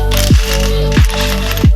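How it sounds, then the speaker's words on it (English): A ratchet loosens 12mm bolts from the upper oil pan of a Nissan 350Z VQ35DE engine, giving three loud, close clicking strokes at roughly even intervals, alone without talk. "go around the perimeter of the upper oil pan now and remove these 12mm bolts"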